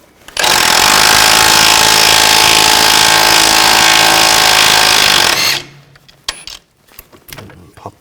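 An impact power tool with a 22mm socket loosens a rusty nut on the front steering of a 2000-2006 BMW X5, giving one loud, continuous rattling burst of about five seconds, followed by faint clinks and handling noises.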